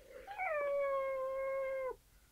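A single long, clear cat meow, drawn out and wavering slightly before cutting off, fairly close in a quiet room with no one talking.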